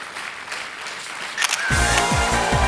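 On the Kaun Banega Crorepati quiz show stage, a quick burst of camera shutter clicks marks a photo with a contestant. A loud, sustained musical swell follows and continues to the end.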